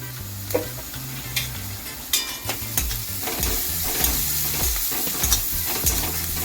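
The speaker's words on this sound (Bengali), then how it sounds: "এবার এটাকে খুব সুন্দর করে ভেজে নেব।" Egg bhurji frying in a pan with salt and turmeric: constant loud sizzle broken by frequent spatula knocks and scrapes against the pan, close and busy, no voices.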